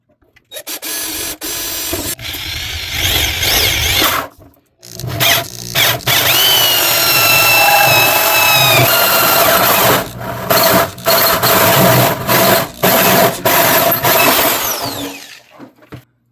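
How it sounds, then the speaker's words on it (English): A pilot hole is drilled, then a hole saw cuts through the metal of an HP Pavilion a1129n PC case. Loud, steady grinding and whining runs for about ten seconds, with brief stops and restarts before and after. "I'm going to start with a pilot hole before I start actually sawing out."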